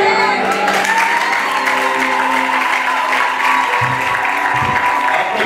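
Wedding guests applaud the newlyweds loudly and continuously, a dense crowd clapping with scattered cheers and whoops, and a voice carrying faintly through the noise.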